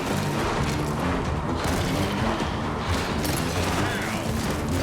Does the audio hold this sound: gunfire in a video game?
yes